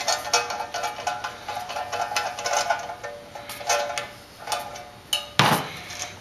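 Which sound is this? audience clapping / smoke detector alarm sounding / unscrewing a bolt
unscrewing a bolt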